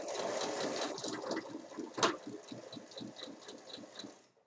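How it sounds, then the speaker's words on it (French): A sewing machine stitches a side seam of a fabric drawstring-style basket from 3 cm below the top edge down to the bottom, a steady fast mechanical whir with rapid needle ticks, close and alone. "Et ensuite, je peux piquer jusqu'en bas."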